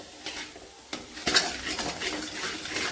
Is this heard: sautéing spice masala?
yes